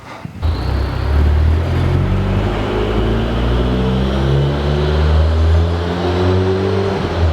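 A supercharged Renault Clio RS200 engine with standard exhaust starts up and accelerates hard, its loud close growl rising in pitch through several gear-like sweeps.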